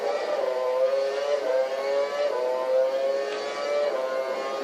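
A Formula 1 car in the racing game F1 2012 screams at high revs, its engine tone holding a steady, nasal whine with slight rises and dips between gear changes, loud and continuous.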